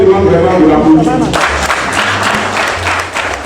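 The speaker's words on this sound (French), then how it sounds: "je vous demande vraiment de l'applaudir" Congregation in a church temple bursts into applause after about a second and a half of speech, broadband clapping filling the hall and continuing steadily to the end, loud and close.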